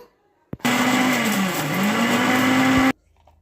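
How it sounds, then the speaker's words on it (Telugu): A kitchen mixer grinder runs for a little over two seconds, grinding ginger, garlic, cinnamon, cloves and cardamom into a masala paste for chicken curry. The loud, steady whirring motor starts abruptly, dips slightly in pitch midway, then stops sharply. "అల్లం వెల్లుల్లి చెక్క లవంగం ఇలాచి వేసి మసాలా పేస్ట్ పట్టుకున్నాను"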